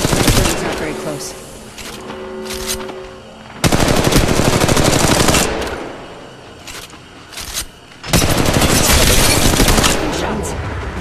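Rapid automatic gunfire in the mobile battle royale Apex Legends Mobile, loud dense bursts in three long stretches with brief lulls between, mixed with game effects and faint voice callouts.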